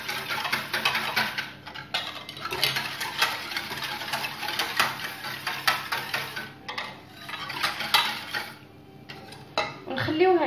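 A utensil clatters and scrapes against a pot while cornstarch is whisked into milk, brisk repeated metallic strokes close by, dipping briefly near the end.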